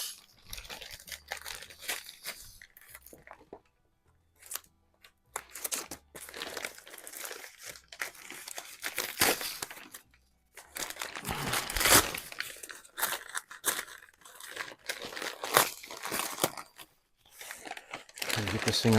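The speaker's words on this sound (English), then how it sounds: "Get this thing unwrapped without hurting myself." Paper wrapping crinkles and tears as someone unwraps a custom hot-rodded Daisy 1938B BB rifle, with bursts of close crackling and rustling separated by short pauses, and someone talking in parts.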